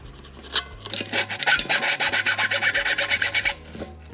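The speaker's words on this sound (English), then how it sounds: "I think for those I'll just do the file" Hand file rasping through bolt holes in a thin metal coffee can: a rapid series of close, even scraping strokes for about three seconds, with no talking.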